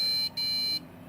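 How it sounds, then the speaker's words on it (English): A desktop computer beeps at power-on after an extra 8 GB RAM module is installed: two high, shrill electronic beeps, the first short and the second longer, then quiet. "when I turn it on it'll probably beep"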